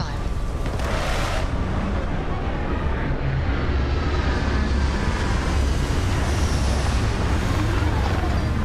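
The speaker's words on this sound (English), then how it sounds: "Landing struts primed. Retros firing." Spaceship retro thrusters firing during a landing in Starfield, a steady loud roaring rush with a brief hiss-like burst near the start, sustained throughout without letup.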